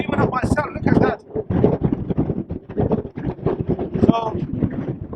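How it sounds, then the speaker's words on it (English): Steady wind buffets the microphone in a rough, gusty rumble throughout in Caernarfon, Wales, with a person talking over it. "it's pretty windy"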